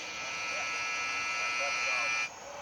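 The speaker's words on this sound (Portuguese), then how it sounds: "Esse é o alarme do fim da erupção." A loud, steady electronic buzzer alarm at a solar observatory signals the end of a solar eruption, droning continuously for a couple of seconds before it abruptly cuts off, with faint voices beneath.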